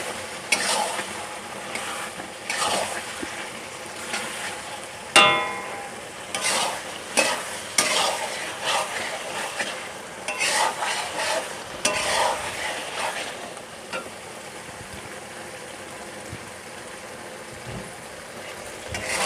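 Beef karahi frying in a pan with long-cut green chillies, a steady sizzle with repeated scraping and stirring strokes of a spoon, close by, with no talk.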